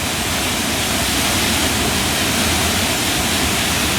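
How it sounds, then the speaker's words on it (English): Water rushes through control gates on an Alpine river flowing down toward Interlaken and its lake, swollen by high mountain runoff. The roar is loud and constant, a steady wall of churning noise with no pauses. "Here are the gates where they control the water going down toward Interlaken and the lake."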